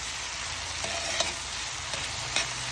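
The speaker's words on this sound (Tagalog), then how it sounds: "bawang sibuyas ang ginasahan natin dito at kaluya." Garlic, onion and ginger sauté in a pan for sinigang na lapu-lapu, giving a steady close sizzle with a few soft stirring scrapes and no talking.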